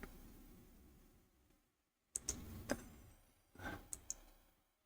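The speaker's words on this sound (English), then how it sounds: "right click" Sharp computer mouse clicks while working in SOLIDWORKS, a few quiet single and paired clicks spaced irregularly over faint room noise.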